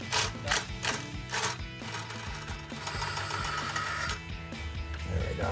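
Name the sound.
impact gun removing a bolt on a Challenger exhaust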